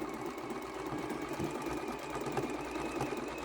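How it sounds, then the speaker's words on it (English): A sewing machine runs steadily, stitching decorative stitches along quilt binding on a quilt-as-you-go table runner, a continuous close mechanical hum and patter with no voices. "I'm stitching a lot of my decorative stitches right on the binding"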